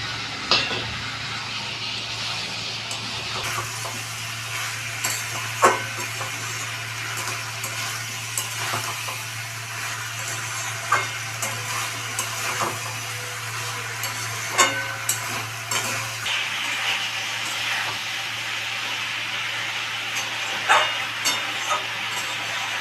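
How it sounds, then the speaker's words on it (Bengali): Fried potatoes tipped into a hot pan of spiced masala for a gourd and fish curry, sizzling steadily with a constant hiss and occasional scrape-and-stir clicks, close and continuous with no talk. "এবার আমি ভেজে রাখা আলুটা দিয়ে দিচ্ছি"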